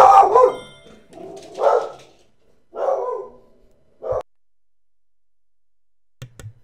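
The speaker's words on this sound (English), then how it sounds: "Gotta get all my dog barking out of it." A dog barks in the background during a Super Mario Galaxy 2 gaming session, giving four loud, separate bark bursts over several seconds, then a short faint yip near the end.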